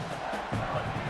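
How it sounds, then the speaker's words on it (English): A home stadium crowd at an American football game roars as the defense tries to get off the field on third down, a brief, broad swell of massed cheering. "Here comes this home crowd as the defense tries to get off the field on 3rd down"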